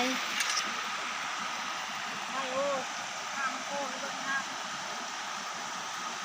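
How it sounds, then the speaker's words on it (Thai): A waterfall roars as a steady broadband rush, near and continuous, with a few faint birdlike chirps over it and some voices talking in the background. "น้ำตก"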